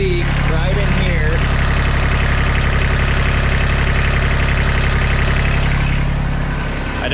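A close UTV engine, just rebuilt with a new head and with a suspected injector leak, idles steadily and loudly with a low, even rumble and a faint knocking pulse, running without a break.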